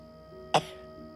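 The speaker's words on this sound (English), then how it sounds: "Bigger cough." A single short cough, close and fairly sharp, standing alone against a quiet background.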